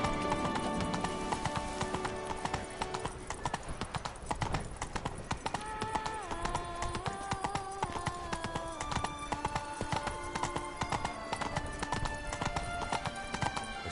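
Roach, a horse in The Witcher 3, gallops with rapid, steady hoof clip-clop close by, layered over a busy game score and background ambience, with a brief whinny possible.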